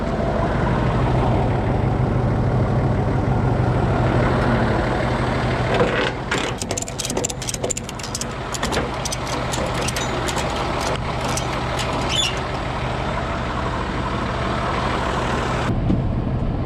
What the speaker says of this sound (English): I can safely move the truck